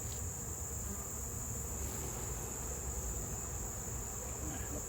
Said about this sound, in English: I have a big ball of bees too